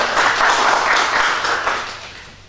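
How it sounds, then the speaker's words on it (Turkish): An audience at a Turkish political party event for parliamentary candidates claps loudly and densely, the applause fading away over a couple of seconds. "onu da alkışlıyorum."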